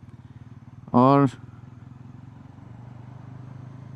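A Bajaj Pulsar NS400Z in second gear gives off a low, steady engine rumble throughout, while a rider briefly speaks over it.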